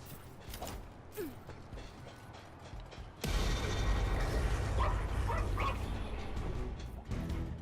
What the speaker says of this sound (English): I don't know what my dog's trying to fight, but he's got some squabbles.